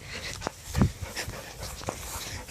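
A dog pants and lets out short whimpers close by, breathy bursts repeating irregularly across the moment, with a louder snorting huff near the start.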